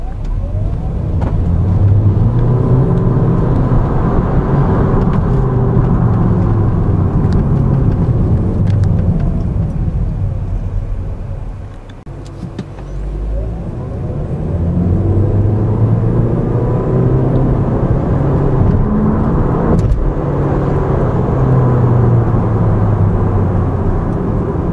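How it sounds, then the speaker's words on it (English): A 2013 Chevrolet Volt electric car accelerating and driving, a loud sustained road and motor rumble with a brief dip in the middle before building again, no voices. "with an electric motor, you're putting out maximum torque right up away from the start, and the pickup isn't really that bad"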